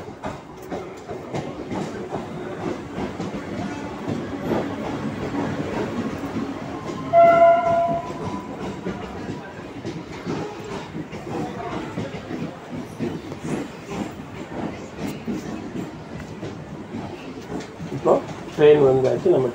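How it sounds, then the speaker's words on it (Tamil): A suburban train pulls into Guindy railway station, its wheels rumbling and clattering steadily, with a brief horn blast midway and crowd noise and chatter from the platform around it. "ட்ரெயின் வந்தாச்சு, நம்ம ட்ரெயினில் ஏறிட்டோம்."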